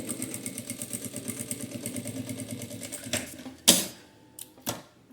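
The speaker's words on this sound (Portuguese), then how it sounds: "Agora eu venho e vou fazer uma costura aqui prendendo o forrinho só na lateral, por enquanto." Sewing machine stitching the lining of a phone pouch, a fast rhythmic close-up chatter for about three seconds, then stopping, followed by a few sharp clicks and knocks.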